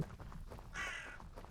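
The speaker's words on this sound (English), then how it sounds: "why are there so many crows here?" Crows caw in the Vintage Story video game, several harsh calls sounding from a moderate distance over a quiet ambient background.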